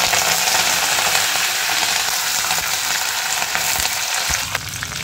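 Green chillies and curry leaves fry loudly in hot oil, a dense, continuous crackling hiss close by, with a couple of soft knocks near the end.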